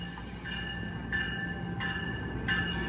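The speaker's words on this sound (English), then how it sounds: "Oh, and here comes the Mark train." A MARC commuter train rolls through New Carrollton station with a steady rumble and repeated high squealing tones, close and continuous, without talk.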